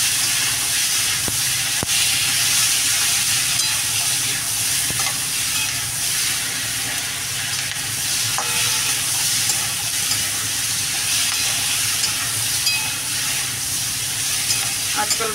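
Vegetables frying in a pan for chilli prawns, a steady hissing sizzle that continues throughout, with occasional faint clicks and scrapes of a spatula.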